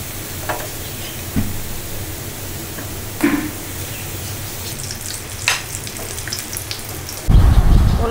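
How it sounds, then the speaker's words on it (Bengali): The first heavy rain of the year pours down as a steady, loud hiss with scattered sharp clatters and a sudden louder burst at the end, alongside a pan of frying food. "এদিকে তুমুল বৃষ্টি নেমে গেছে"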